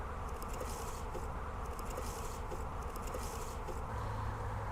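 Honeybees swarm around an open hive during a spring inspection, producing a dense, continuous buzz that stays steady and close throughout, with individual wingbeats flickering on top.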